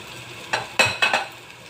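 Chicken liver dropped into a hot pan for adobo, giving a few quick bursts of sizzling and scraping stirs against the metal, close and short.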